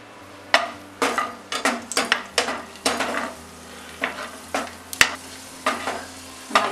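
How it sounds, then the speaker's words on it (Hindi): Raisins frying in ghee in a pan, with repeated sharp spoon scrapes and clinks against the metal roughly every half second over a soft, steady sizzle; close and fairly loud, no talking. "अब हम किशमिश फ्राई कर लेंगे।"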